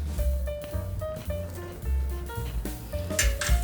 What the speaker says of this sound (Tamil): நல்லா எல்லா இடமும் கலக்கி விட்டுட்டு